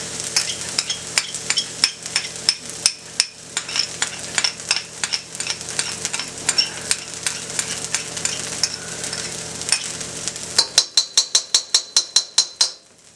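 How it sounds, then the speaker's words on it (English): Crushed garlic sautés in a pan for shrimp beignets, a soft sizzle under a run of rhythmic utensil taps and scrapes against the pan that grow sharper and more spaced near the end. "We're going to saute that for about 1 minute or so."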